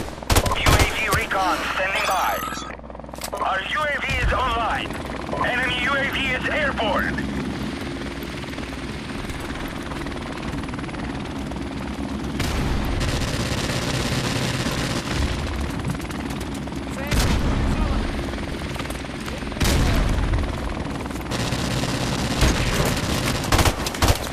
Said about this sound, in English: Someone got a helicopter for our team, just what we need.